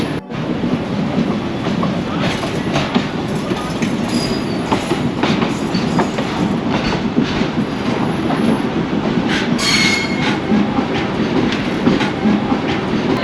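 The Doon Express rumbles steadily along the rails near Barabanki, its wheels clattering in a continuous loud roar with intermittent metallic clicks and faint squeals.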